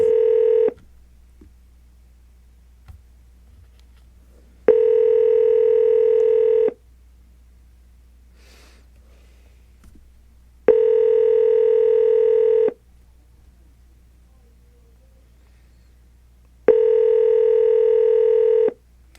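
A telephone line on a paranormal radio show rings out unanswered: a steady two-second ring tone comes four times at even intervals, with near silence between each ring and no talk.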